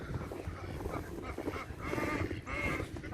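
Ducks calling outdoors in heavy snow on a farm, a steady run of nasal honks and quacks, fairly near, with the loudest bursts toward the end.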